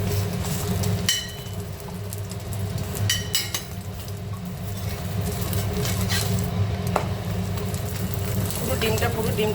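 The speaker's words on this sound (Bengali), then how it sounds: "এবার এটা ভালো করে একটু ভেজে নেবো।" An egg roll frying in a pan with a little oil gives a steady close sizzle, broken by a few sharp metallic scrapes and clinks of a utensil against the pan.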